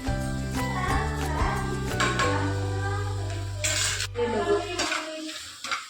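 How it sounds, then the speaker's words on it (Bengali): A utensil clinks and scrapes steadily against a pan while mushroom chilli with sugar is stirred, giving repeated metallic taps and a faint sizzle underneath. "চিনি দিয়ে ভালো করে নেড়ে চেড়ে"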